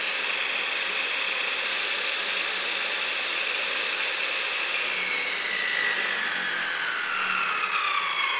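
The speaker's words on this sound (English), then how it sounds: "an 1800-watt power saw running" An 1800-watt power saw driven by a homemade 12-volt inverter runs continuously, a steady high whine cutting with a rasping, grinding texture, its pitch sliding slightly partway through.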